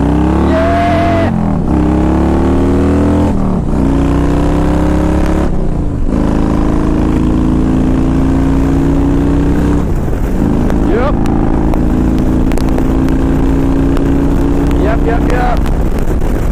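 A 2000 Harley Davidson Ultra Classic motorcycle is ridden on a test drive, its engine loud and close with rising gear shifts and a sustained cruising drone, while wind rushes and a rider's voice is partly audible over it.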